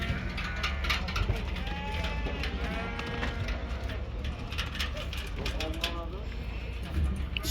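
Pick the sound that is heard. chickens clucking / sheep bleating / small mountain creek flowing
sheep bleating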